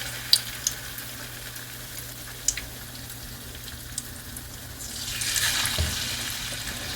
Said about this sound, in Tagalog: So tayo ay nagprito na ng tilapia.